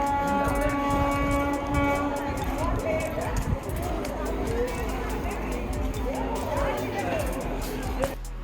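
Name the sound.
railway station platform with train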